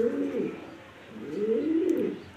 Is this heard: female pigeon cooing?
yes